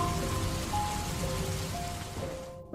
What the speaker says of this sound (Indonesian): Hanya ada suara hujan yang mengetuk jendela.